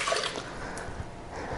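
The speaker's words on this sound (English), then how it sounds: "I'm actually just gonna start by pouring in my liquids." Half a cup of water pours into a Vitamix blender jar for a cake batter, a short splashing trickle that is loud at first and tapers off, with no talking.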